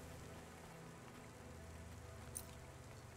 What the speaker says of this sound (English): Welcome to my humble restaurant in the rain